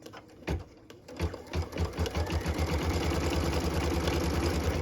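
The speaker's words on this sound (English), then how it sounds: "So now we're going to go ahead and stitch the tack down line, and it should stitch just right over top of that felt." A sewing machine stitching a tack-down line over felt on a Christmas tree ornament: a few hesitant stitches, then a steady, rapid, close mechanical whirring and thumping that runs to the end.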